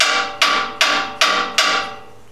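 A steering pump pulley tapped into place with a hammer in a garage, four loud ringing metallic strikes at an even pace, each decaying before the next.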